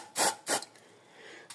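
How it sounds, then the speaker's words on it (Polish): Two short, loud bursts of drilling and tapping lubricant sprayed from an aerosol can at close range, each a hissing puff, followed by a faint trailing hiss and a light click, while repairing the spark plug thread in a motorcycle cylinder head. "Mam tutaj sobie, spójrzcie, w sprayu taki specjalny smar do wiercenia gwintowania. Psiknę to sobie tutaj."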